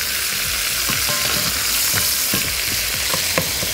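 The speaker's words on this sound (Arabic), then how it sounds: "نقلب الفراخ كامل تحميرها على الوش التاني" Chicken pieces fry in a pan alongside vegetables, giving a loud, continuous close sizzle with scattered soft clicks and scrapes from turning the pieces, and no voices.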